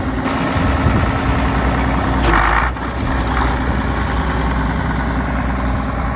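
Case 1070 tractor with its engine running steadily near the microphone, a continuous low rumble with no clear rev change as it moves off.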